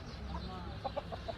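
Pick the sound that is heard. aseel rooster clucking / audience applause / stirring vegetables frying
aseel rooster clucking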